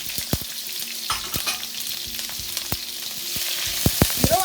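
Peppers stir-fried with garlic in a pan for a chicken stir fry: a continuous crackling sizzle broken by sharp clicks and scrapes of a utensil stirring, close and clear with no talk.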